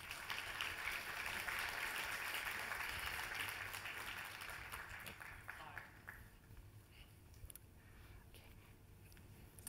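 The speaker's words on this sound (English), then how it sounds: "So please join me in giving a round of applause to welcome Mr." Audience applause at a Social Matters 2014 conference, welcoming a speaker from Line's Tokyo headquarters onto the stage; broad, steady clapping from a crowd that holds for several seconds, then gradually thins and fades.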